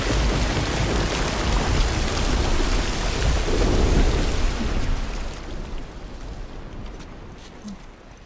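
Heavy rain and rumbling thunder in The Last of Us Remastered, loud and dense at first, then fading and muffling toward the end as if moving under shelter, with no speech.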